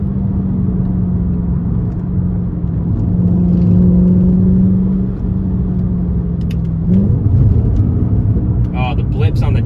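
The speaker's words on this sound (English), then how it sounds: "the blips on the downshift," A Mercedes C55 AMG engine drones steadily at close range, then its pitch jumps sharply as the revs blip on a downshift and fall away into a rougher running note.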